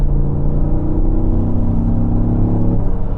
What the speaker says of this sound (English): the exhaust is blowing